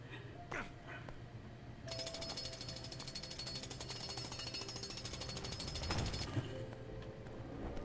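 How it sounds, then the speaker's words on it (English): Drill in the Lego Avengers video game breaking up debris, a loud steady rapid hammering rattle running continuously for several seconds after a brief start, close and dominant over game background sound. "Let's get a drilling."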